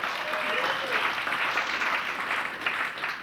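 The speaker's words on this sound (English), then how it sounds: "I'll say anything to get a round of applause." An audience at an Alcoholics Anonymous meeting in Malibu applauds a speaker, a sustained, fairly loud crowd clapping with faint voices mixed in beneath it.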